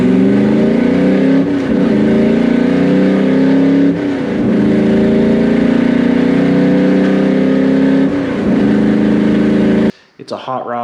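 A loud hot rod called the Misfit Split, built from parts of 30 different cars, revs hard and steadily, its engine note rising in several surges before cutting off near the end.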